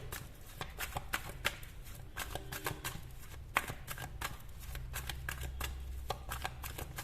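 Tarot cards riffled and shuffled by hand, a run of crisp rapid flicks and snaps with brief pauses, close and fairly loud with no talk over it.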